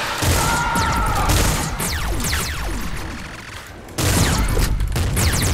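Rapid heavy gunfire from a Gatling Slugger in the top-down shooter game Nuclear Throne, a dense barrage of booming shots with crashing impacts, loud throughout with a short dip before resuming.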